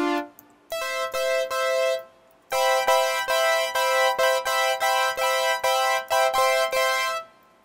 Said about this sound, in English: we are going to be making a synth that is wobbly